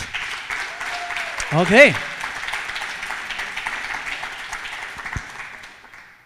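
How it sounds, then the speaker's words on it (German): An audience applauds at a poetry slam featuring Bochum's Bundestag candidates. Moderate, steady clapping runs the whole time and fades toward the end, while a voice speaks briefly over it. "Wie klingt ein sehr zufriedener Applaus am heutigen Abend?"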